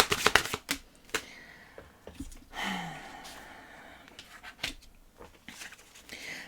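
Tarot cards shuffled and pulled for a reading, with quick riffling flutters and soft card slaps in irregular bursts, close up, with a faint breath or sigh among them.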